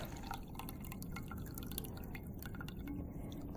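Distilled water dripping and trickling into a kombucha tea jug, a steady close stream of small irregular drips and splashes against the container, fairly quiet, with no talking.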